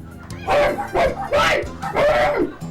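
A child imitates a dog at a human barking contest, giving four loud, yappy barks in quick succession, each a short voiced yelp with a rising-falling pitch.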